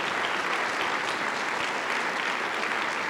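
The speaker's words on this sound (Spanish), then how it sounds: "Dale un aplauso al Rey de Reyes y al Señor de Señores." A church congregation at a Sunday service claps together in a dense, steady burst of applause that fills the whole stretch without pause.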